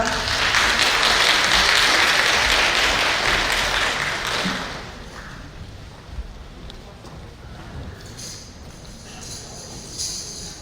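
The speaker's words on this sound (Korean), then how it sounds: "여러분 큰 박수 부탁드립니다" Audience applause at a book concert: loud, dense clapping for about five seconds that tapers off into quieter room noise with a few scattered sounds.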